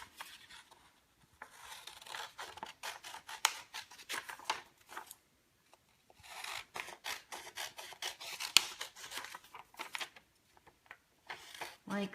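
Scissors snip through a printed photo for a handmade craft, a close, steady run of crisp cutting strokes in bursts with brief pauses between them.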